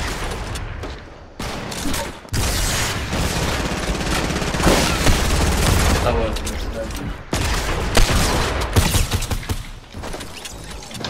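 Rapid gunfire from a Fortnite Battle Royale match, dense bursts of SMG-style shots and booms running almost continuously and loud, with some talk mixed in.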